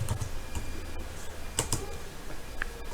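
Keyboard typing a prompt into Google Gemini, with a steady patter of soft key clicks and a few sharper taps, close and alone with no talk.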